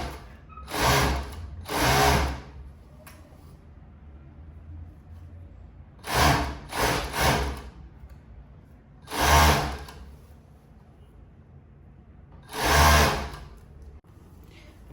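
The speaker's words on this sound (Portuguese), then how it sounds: "A gente fez a costura toda em volta aqui com elástico." Sewing machine running in short separate bursts as it stitches four layers of supplex fabric with elastic sewn all around the edge of a cropped top, each burst a loud close whir with quieter pauses between.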